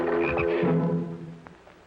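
A bullfrog croaking close by, one deep resonant drawn-out croak followed by a fading tail and a small click, with no talking over it.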